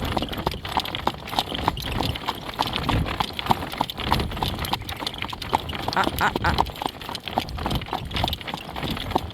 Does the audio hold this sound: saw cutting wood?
no